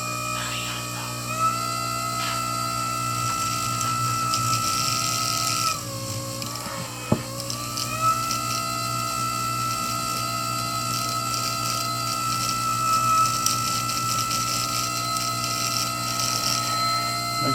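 A motor-driven buffing wheel polishes a fossil sand dollar echinoid, giving a steady whirring hum with sustained tonal whine that dips briefly as the piece is pressed in, then returns, plus a sharp click midway.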